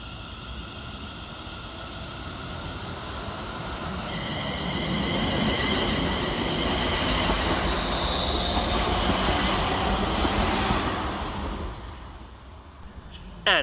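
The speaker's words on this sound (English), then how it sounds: "Next up for departure is 380009, working the 1222 Scotrail service from Glasgow Central to Gurrock." ScotRail class 380 unit 380009 pulls out of Paisley Gilmour Street, its motor hum and wheel noise swelling midway with a rising whine, then fading as it moves away.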